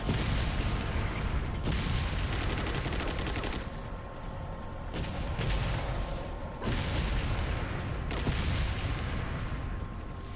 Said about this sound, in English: It's cannon time